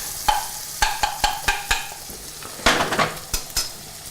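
Slices of garlic sizzle in a hot pan for puttanesca pasta, a steady fry hiss broken by a series of sharp clinks and scrapes from stirring, close and fairly loud.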